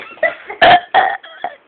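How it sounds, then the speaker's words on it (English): A little girl lets out a series of loud, close burps, several short croaking belches with one big long one in the middle, heard alone without talk. "this little girl can burp"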